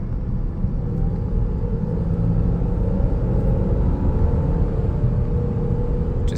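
A 2017 car cruising and accelerating on a highway from about 50 mph, giving a steady, loud low rumble of engine and road noise inside the cabin with no talking.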